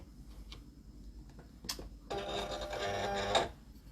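A Silhouette cutting machine loads a cutting mat carrying heat transfer vinyl, giving a short motorized whir and feed rumble of about a second and a half after a few light clicks, quiet and close with no talking.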